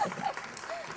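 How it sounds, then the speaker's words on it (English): Audience applause at a company gathering, a brief burst of dense clapping from a crowd with some voices mixed in. "Can we have a round of applause?"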